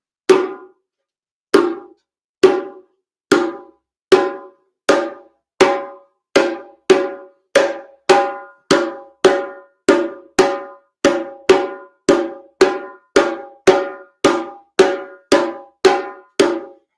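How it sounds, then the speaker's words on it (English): A hand drum is struck again and again in a steady, even rhythm, each ringing tone decaying quickly; about two dozen strokes, close and clear. "let's try a tone sound"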